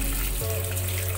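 Water is poured onto garden plants, including rose bushes, in a home garden. It makes a steady, full gushing flow heard close up and alone.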